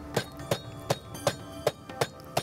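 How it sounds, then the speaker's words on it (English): Seven sharp, evenly spaced thuds of a mallet pounding beef thin for pasanday, close and fairly loud, with no voices. "when you hammer it, the muscle loosens up"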